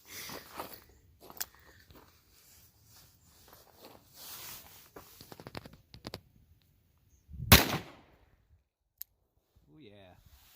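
A Taurus Judge revolver fires a single loud, sharp gunshot outdoors, a lone blast standing out after some quieter clicks and handling noises.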